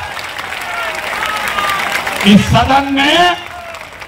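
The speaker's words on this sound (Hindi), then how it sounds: "जोर से बजाइए ताली।" Audience clapping at the Jan Suraaj founding convention, a modest burst of applause rising beneath someone speaking loudly into a microphone.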